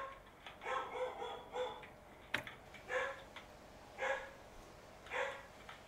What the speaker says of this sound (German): Der Hund hat seinen Spaß.